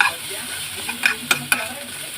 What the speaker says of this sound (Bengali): আর একটু চিলি সস দিয়ে ভালো করে মিক্স করে নিতে হবে